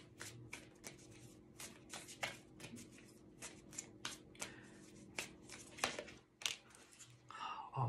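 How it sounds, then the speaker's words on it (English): A new oracle card deck is handled and shuffled close by, with quiet papery flicks, riffles and soft snaps of cards in irregular bursts over a hushed room. "I'm now going to just pull a final card for us"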